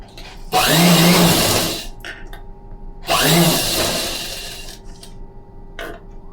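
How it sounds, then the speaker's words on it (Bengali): Electric sewing machine stitching lace onto a pillow cover, two loud sustained bursts of motor whir separated by a pause, then a brief short run, up close with no talk. "এই লেসটা কিন্তু আমি এইভাবে সেলাইটা দেবো"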